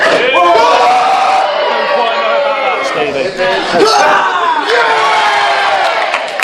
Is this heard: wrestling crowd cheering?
yes